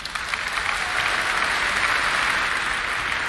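A crowd claps steadily in the House of the Dragon series, a dense, even wash of applause that holds its level throughout with no voices on top.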